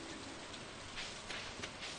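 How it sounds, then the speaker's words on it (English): Steady rain patters through a short stretch of Stardew Valley gameplay, a soft, even hiss with no other sounds. "Oh yes, rainy day."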